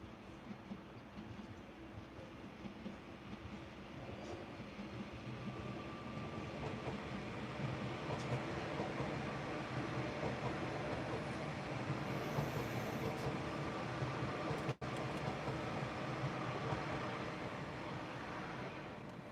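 A TransPennine train rolls slowly over points onto a diverted track, its steady rumble and wheel clatter building gradually at a distance, with a brief sharp click near the end.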